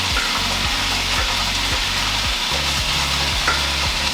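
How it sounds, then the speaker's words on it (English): Steady broadband sizzle of tofu frying in a hot pan with onions, with repeated scraping strokes of a utensil stirring at a regular pace. "we'll just let the tofu cook for a minute before we start stir frying"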